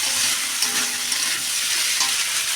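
A spice paste fries in a pan with a dense, continuous sizzle and hiss at close range, with no talking.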